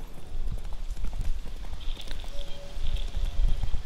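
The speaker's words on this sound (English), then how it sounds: "There's the horse." A horse named Roach in the video game The Witcher 3, its hooves clip-clopping in a steady walking rhythm, close and fairly loud, with faint ambient tones in the background.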